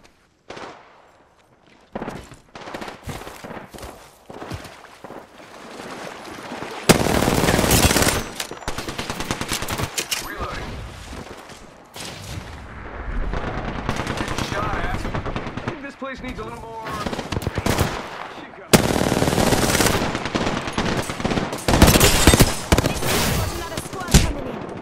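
Sustained bursts of automatic gunfire in the Apex Legends battle royale game, loud and dense in several long volleys with short gaps, mixed with game effects and speech.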